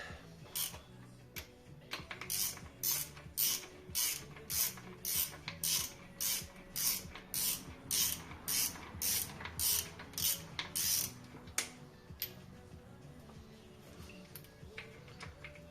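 Ratchet tightening main bearing caps on a Peugeot 309 GTI / 205 GTI crankshaft engine during rebuild, a long run of regular rapid clicking bursts, about fifteen in steady rhythm, close and clear, then stopping.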